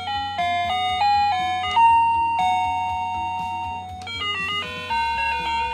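A DioBell BO-2+ wireless doorbell chime plays clear melodic tones, several ascending and descending notes in sequence, then a fresh tune starts near the end, loud and close with no talking.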